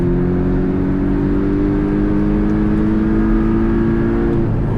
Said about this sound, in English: The higher you rev the engine, the smoother it gets